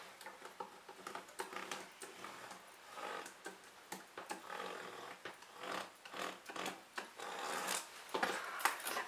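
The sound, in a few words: marking a line along the middle of fabric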